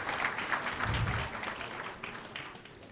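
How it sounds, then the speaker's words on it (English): A steady wash of crowd applause at a university congregation ceremony, moderately loud and dense, fading slightly toward the end with no talking over it. "Another round of applause for the Asafo Company."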